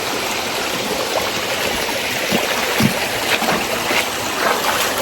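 Steady broadband rush of a clear, flowing river, continuous and fairly close, with occasional splashy bursts over the wash.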